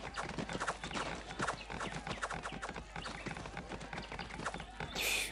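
Cavalry hooves clatter in a strategy video game battle, a dense, fast and continuous clip-clop of many horses at the same loudness throughout, with a brief bright effect at the end.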